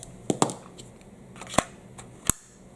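An AC Unity magazine seated into a Gen 3 Glock 19 pistol without a magwell produces a few sharp, close metallic clicks and snaps, spaced irregularly across a couple of seconds over quiet room tone.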